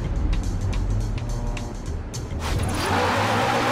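A supercharged 6.2-litre V8 HSV Maloo Gen F ute in Forza Horizon 4 drives with a loud, deep engine rumble that swells into a rising roar toward the end, with tyre and road noise mixed in.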